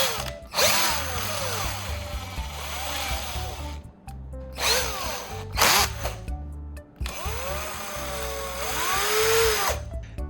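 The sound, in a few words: power drill running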